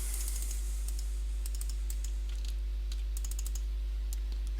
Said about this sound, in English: I'm going to smash everything on the keyboard and I still can't do it.